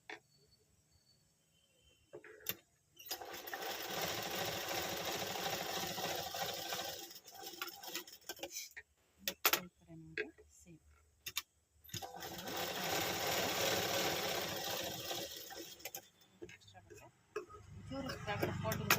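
A sewing machine stitches the body seam of a nightie during an alteration, running in two long sustained bursts separated by pauses with small clicks and handling noises; a voice speaks between the runs.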